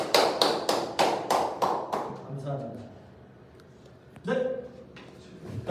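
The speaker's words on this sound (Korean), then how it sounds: "감사와 찬양의 박수를 올려드립니다" Unison rhythmic clapping of thanks and praise at a Leviticus lecture, about six strong, evenly spaced claps, followed by a voice speaking.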